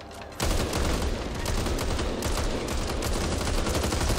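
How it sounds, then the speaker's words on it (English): Sustained gunfire in the zombie shooter Back 4 Blood, erupting suddenly and continuing as a dense, loud barrage of rapid shots that fills the whole stretch without pause. "Shots fired."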